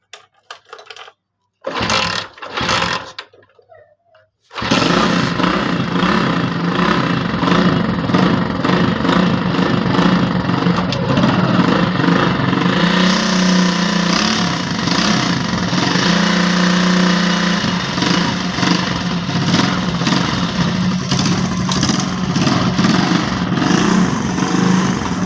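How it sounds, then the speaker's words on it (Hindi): After a couple of short attempts, a motorcycle engine with a freshly adjusted clutch fires up and settles into a steady, loud, close idle that runs for about twenty seconds. "तो फिर आपने बाइक को स्टार्ट करके चेक कर लेना है क्लच।"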